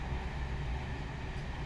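A train rolls along with a steady, even rumble and low hiss, heard from close by for a moment with no other sounds standing out.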